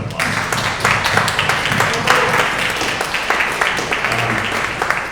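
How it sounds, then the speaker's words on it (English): An audience at a presentation by architects and designers gives a round of applause, loud and continuous with sharp individual claps and faint background voices throughout. "Let's give everyone a round of applause."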